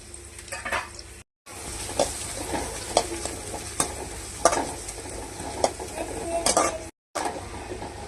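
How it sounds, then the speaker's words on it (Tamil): Ginger, garlic, onion and green chilli sizzling in a pan while being stirred for egg manchurian, steady frying hiss with repeated scraping strokes and light utensil clinks, broken by two brief cuts. "வெங்காயம் நல்லா வதங்க வேண்டாங்க, ஓரளவுக்கு வதங்கினா போதும்"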